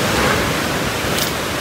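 Sea water and waves surging up the shore near a beach camp, a steady close broadband wash of surf with a brief brighter splash toward the end.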